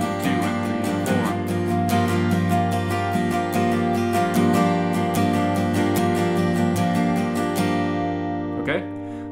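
Steady acoustic guitar strumming of a song intro, one chord in an even rhythm of repeated down-up strokes, close and bright, then a short pause and a final scrape at the end; no voices.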